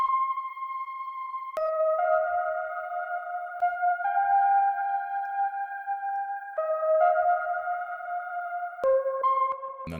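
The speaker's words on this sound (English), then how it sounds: "I added a delay, and the delay is panned 24 cents to the right, and it adds the stereo width" Synth melody of sustained, tone-pure notes stepping between pitches, with a stereo delay panned to the right adding width; clean and alone, with sharp clicks at the note changes.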